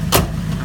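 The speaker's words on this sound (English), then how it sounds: "car's running really nicely now" A Volvo 240 fitted with a Holden 5-litre V8, its ECU tuned, idles with a steady low rumble close by, with a brief louder burst of noise near the start.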